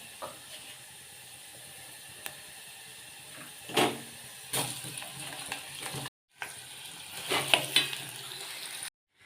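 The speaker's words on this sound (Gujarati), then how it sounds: "આપણે જો બટેકાનો મસાલો હલાવીને તૈયાર કરી દીધો છે" Spicy potato masala for samosas being stirred in a frying pan, with a steady sizzle and a few louder scraping strokes of the spoon, close and moderately loud, with no talk.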